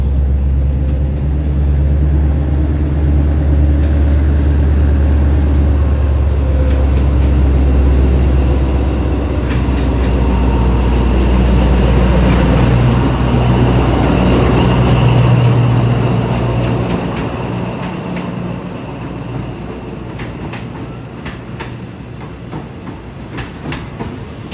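An Alsthom diesel locomotive accelerating into Surat Thani rumbles loudly nearby, engine roaring as it passes with rhythmic clatter of wheels on rails, fading slightly toward the end.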